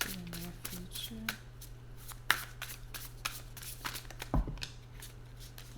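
Tarot cards being shuffled by hand in a quiet room, with a run of soft riffling flicks and short slaps, under a steady low hum, a reading for Pisces in progress.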